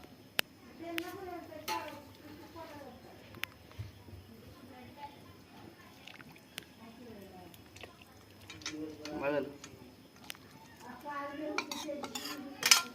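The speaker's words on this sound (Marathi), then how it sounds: "कढई बघा स्वच्छ करून घ्यायची चालली." A masala-coated kadhai from chicken curry being scrubbed and washed outdoors, with intermittent metallic clanks and scraping knocks and occasional sharp clinks, while people talk quietly nearby.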